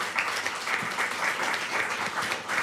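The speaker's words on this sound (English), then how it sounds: "I would like for all of you to give a round of applause to ZP Kimundu, Sam Soko," Applause from an audience at a launch event in a hotel in Zanzibar, a moderately distant, even patter of many hands clapping that continues steadily from start to finish.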